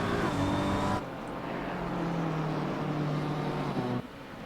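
A GT3 race car engine in a racing video game at Silverstone, its throaty growl sounding muffled and padded, as if heard through a door, holding a steady drone with a gear change near the start and a shift again toward the end.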